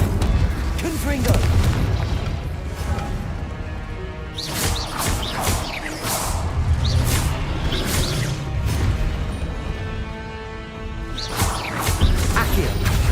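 Repeated magical spell blasts and explosions in the video game Hogwarts Legacy, with Incendio fire spells and Confringo blasts, booming impacts and crashes recurring over a busy battle mix while a player talks.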